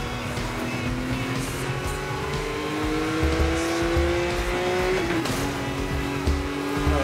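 Car engine driving in the Need for Speed Most Wanted demo, a steady loud drone with a rising pitch that drops sharply around a gear shift, plus tire squeal and road rumble, continuous with no voices.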